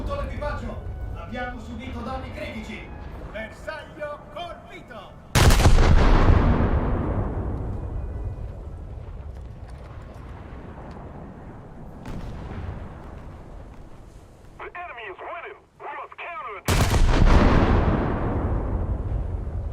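Naval gunfire from ship turrets, including a dual turret, in a video game: two huge close blasts with long rolling decays and a smaller distant shot between them, while someone talks.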